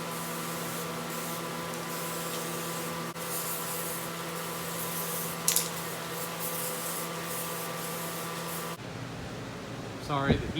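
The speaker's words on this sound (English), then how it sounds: "Sorry, the heater is on" A room heater runs in a workshop where a 1948 Willys Jeep CJ2A is being readied for paint, giving a steady, even whir with a low hum throughout and a brief quieter stretch at the end.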